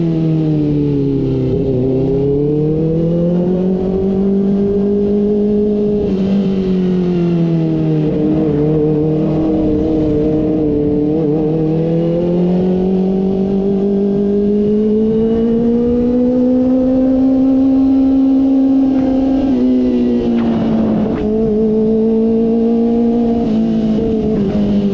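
A Kawasaki ZX4RR motorcycle engine revs loudly and close, its pitch rising and falling in long sweeps over a steady high-revving drone for the whole stretch, with no talking.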